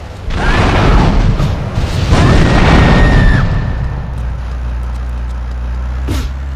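A car blows up in Grand Theft Auto III with a loud, close boom that swells and rumbles for a few seconds, followed by a lingering low roar and a sharp pop near the end.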